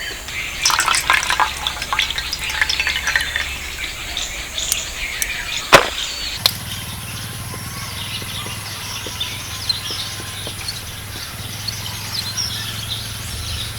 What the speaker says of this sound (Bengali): জল দিয়ে ভালো করে ধুয়ে নিলাম